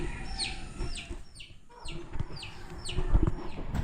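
Hens kept inside a farm garage give a series of short, repeated clucks over a low murmur of background noise, with several birds calling at a moderate distance.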